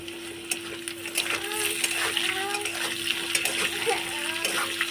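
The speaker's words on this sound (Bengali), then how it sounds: "আমি গোটা গরম মশলাটা ফোড়ন দেবো এখানে গোটা গরম মশলা আর জিরে" Whole garam masala and cumin seeds sizzle in hot oil as a tempering for a banana flower dish, a continuous close crackling fry with bursts of spattering across the whole stretch.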